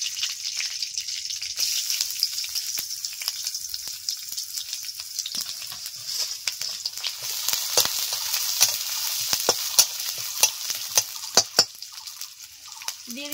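Chopped onion, garlic and ginger fry in hot oil in a pan with a steady, bright sizzle, broken by scattered clicks and scrapes from stirring.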